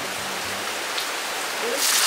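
Steady rain falls on a summer afternoon in Korea, a dense even hiss that swells slightly louder near the end, with no talk over it.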